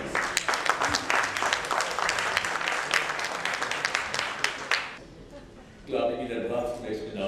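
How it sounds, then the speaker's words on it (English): Audience at a literature festival bursts into dense, sustained applause for about five seconds, then it cuts off abruptly and a voice begins speaking over a faint room hush. "Once more, before we start, a big round of applause."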